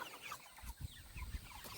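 Cornish Cross meat chickens cluck softly in a backyard chicken tractor, low, faint, scattered clucks against steady outdoor background noise.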